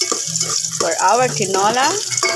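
Ginger sautés in a hot pan for chicken tinola, giving a steady sizzle that runs under close conversational talking throughout.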